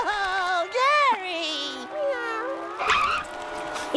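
A cartoon snail meows in several drawn-out, wavering cries with rising and falling pitch, loud and close, broken by short pauses.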